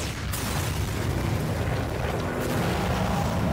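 Rapid gunfire in a Skibidi Toilet animation battle against a giant toilet: dense, continuous blasts and booms, loud and unbroken throughout.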